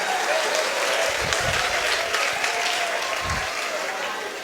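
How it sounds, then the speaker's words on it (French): A church congregation breaks into sustained applause during a worship service, a dense wash of clapping that carries steadily through with a few voices mixed in. "Est-ce que tu peux acclamer pour le Seigneur?"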